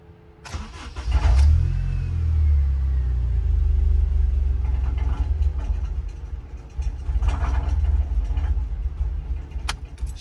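A K-series car engine cranks and catches, then runs with a rough, uneven idle that sags and surges as it struggles to stay running, with occasional clunks and no talking.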